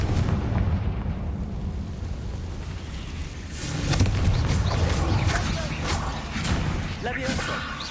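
Spell blasts and explosions from the Hogwarts Legacy video game, deep rumbling booms and bursts of combat noise layered over one another, with speech mixed in.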